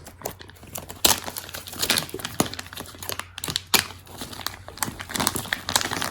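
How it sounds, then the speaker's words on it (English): Crinkly plastic packaging on a rug being cut with scissors and handled up close, with sharp snips and rustling crackles at an irregular pace. "So we're just going to snip this one."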